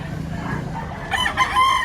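A rooster crows at a busy chicken auction market, one loud, close crow breaking over a low murmur of background noise and voices.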